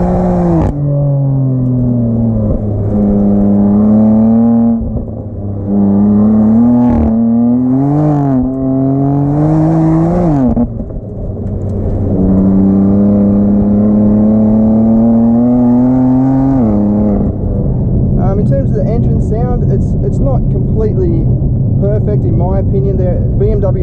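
A 2018 BMW M4 CS engine revs while driving, its pitch rising and falling through repeated gear changes, loud and close, with someone talking over it.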